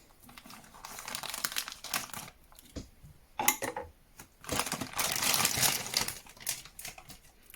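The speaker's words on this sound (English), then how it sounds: "Let's cut this open." Plastic packaging around a temperature probe crinkles and crackles as it is cut open, with irregular bursts of rustling close to the microphone.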